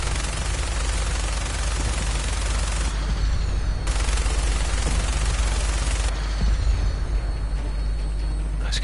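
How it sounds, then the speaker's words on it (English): Explosions in Fallout 4 play as a continuous loud, dense roar of blasts and crackling debris, with a sharper thump late on and no speech over the din. "Nice couple of explosions."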